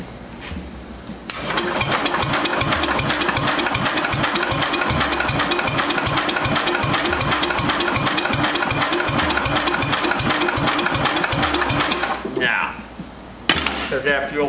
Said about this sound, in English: we're just gonna crank it over and see if any gas will come shooting out of here